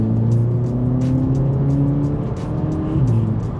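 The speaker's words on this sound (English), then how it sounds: "Oh, wheel spin, it is damp on the road." A very fast car spins its wheels and accelerates hard on a damp road, its engine droning loudly and steadily with pitch shifts as it gathers speed, heard from close by.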